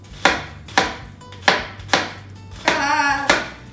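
Knife chopping onion on a cutting board while making feijoada, six crisp close chops in a steady rhythm roughly every half second, one with a brief scraping slide, no talk over it.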